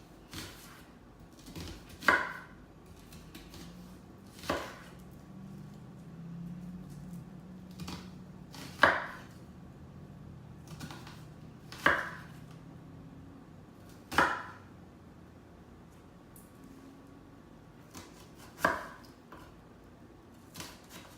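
A knife makes small slicing cuts around food on a cutting board while preparing meat pies, heard as a series of sharp, separate knocks spaced a couple of seconds apart over a low, steady kitchen hum.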